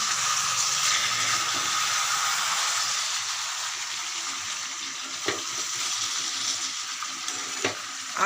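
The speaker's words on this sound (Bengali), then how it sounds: "কসুরি মেথি আর গরম মশলা দিয়ে মাংসটা বেশ করে কষিয়ে নিচ্ছি" Meat being stir-fried in a pan with kasuri methi and garam masala, a continuous close sizzle and hiss with occasional scrapes and knocks of the spatula, steady and fairly loud throughout, no talking.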